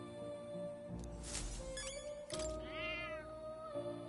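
A cat meows in the video game Metaphor: ReFantazio, one clear drawn-out call rising and falling near the end, heard over steady in-game background tones and music.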